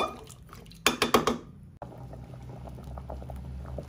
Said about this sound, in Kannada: ತರಕಾರಿ ಬೇಳೆ ಎಲ್ಲ ಚೆನ್ನಾಗಿ ಕುದಿ ಬಂದಿದೆ